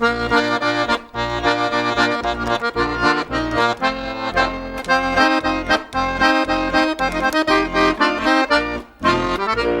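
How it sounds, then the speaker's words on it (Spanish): Lively instrumental music bounces along in a brisk two-beat polka rhythm, full and steady with a few brief breaks. "Una polca suena así, por ejemplo."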